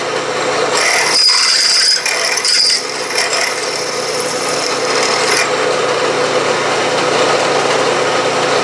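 A long drill bit bores a bolt-circle hole in metal on a dividing-head setup, a loud steady machine drone with a thin high whine that rises briefly twice and then settles, no voices.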